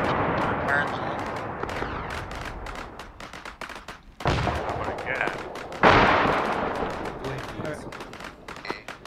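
Explosive detonation in an Arma 3 military simulation battle, two sharp loud blasts in the middle of a stretch of crackling gunfire and game noise, with voices talking over radio throughout.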